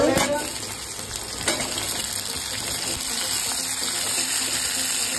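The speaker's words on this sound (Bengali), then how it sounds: "এখানে এবার টমেটো কুচিগুলো দিয়ে দেব" Chopped tomatoes going into a pan of frying chopped onions and being stirred, a steady close sizzle with a brief splashy burst near the start and light scraping and stirring noises throughout, accompanied by a faint high whine.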